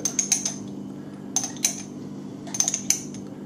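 A small metal spoon scoops nutmeg from a jar for bread sauce, making bright clinks and scrapes that come in short bursts with pauses between them, loud and close, with no talking.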